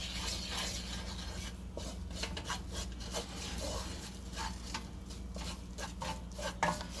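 A spoon works through a thick methi matar malai mixture of fenugreek and peas in a pan, making a steady, close rubbing scrape with soft repeated strokes and no talking.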